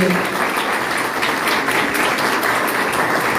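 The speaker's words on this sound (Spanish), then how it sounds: "lo despedimos con un aplauso a Pablo" An audience at a panel session gives a farewell round of applause for Pablo, steady, fairly loud clapping with a voice faintly audible beneath it.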